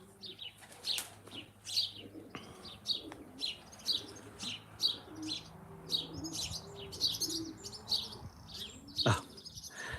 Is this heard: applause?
no